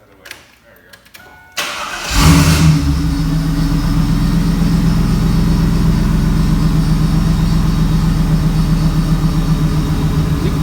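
A Chevy Camaro engine cranks and catches after a quiet opening with faint voices, then settles into a loud, steady, throbbing idle with light revs that holds close and constant to the end.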